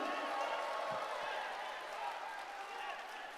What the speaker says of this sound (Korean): 여러분 힘찬 환호의 박수